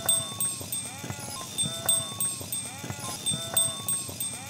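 Several sheep bleat repeatedly in overlapping calls, close and moderately loud, with faint rustling and shuffling of the flock underneath.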